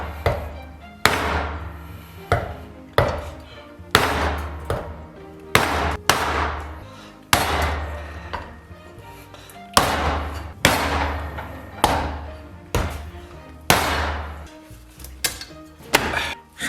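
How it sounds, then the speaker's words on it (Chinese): Beef ribs are chopped by hand with heavy cleaver blows, about a dozen loud, close thuds landing in an uneven rhythm on a board, with no talking. "咱们给它从这边剁开。"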